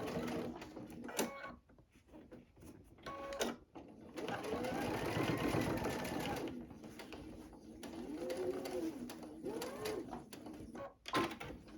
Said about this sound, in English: I'm going to sew right across that gusset.